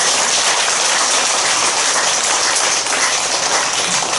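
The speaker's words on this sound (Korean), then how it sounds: "박수를 드립니다" Audience at a Buddhist dharma talk at Cheonggoksa temple claps steadily, a dense, even wash of applause lasting the whole stretch with no voices over it.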